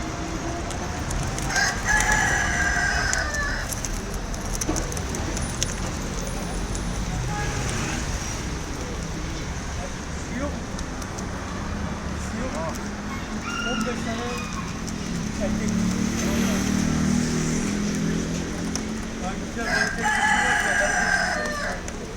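A rooster crows loudly twice, near the start and again near the end, with other fowl clucking and people talking in the background.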